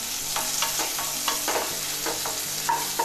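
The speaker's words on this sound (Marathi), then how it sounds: "आता त्यामध्ये हा एक मध्यम चिरलेला कांदा आपण परतवून घेऊया" Chopped onion sautés in hot oil, a steady close sizzle broken by repeated spatula scrapes and taps at an even stirring rhythm.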